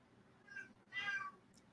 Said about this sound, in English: Yeah, that was the cat.